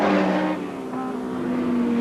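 BMW touring cars race past with four makes mixed together in the 1988 British Touring Car Championship, giving a loud continuous engine drone with steady harmonic tones and no talk.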